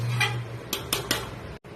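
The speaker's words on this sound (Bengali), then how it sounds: "এবার ঢাকনা দিয়ে ঢেকে দিচ্ছি।" A metal lid set down on a pot of homemade mutton curry gives three quick, close clinks and a scrape, with no one speaking.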